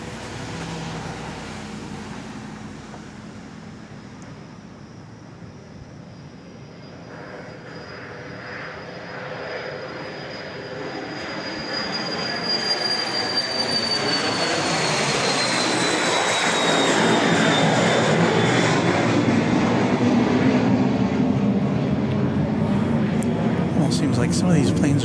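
Jet airliners at Dallas Love Field airport roar steadily, the engine noise building and sweeping in pitch as a plane passes nearby. A voice talks over the loud, continuous rumble throughout.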